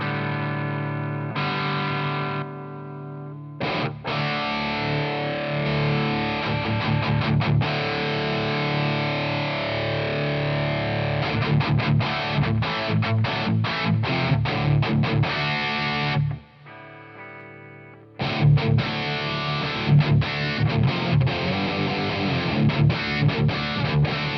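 A heavily distorted high-gain electric guitar, from BiasFX2 amp software, plays continuous riffs and chords, thick and saturated, quiet with no gating, with a couple of brief pauses between phrases.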